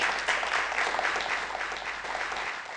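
A hall audience at a public event in Azerbaijan breaks into sustained applause, dense and steady from start to finish with no voices over it.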